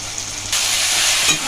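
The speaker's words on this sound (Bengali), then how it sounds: "আদা রসুনের যতক্ষণ না কাঁচা গন্ধটা যাবে ততক্ষণ ভালোভাবে এটা তেলের মধ্যে ভেজে নিতে হবে" Crushed garlic and ginger fry in hot oil for a chicken keema tadka, starting as a faint sizzle and then jumping to a loud, steady crackling hiss with a brief stir near the end; no voices.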